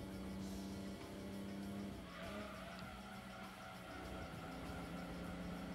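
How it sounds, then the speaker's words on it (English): High-pitched engine of a muffler-fitted car in the Gran Turismo 2 racing game, a steady whining drone with tire-squeal-like tones running continuously throughout. "most of the cars you fit mufflers into have that high-pitched sound to it"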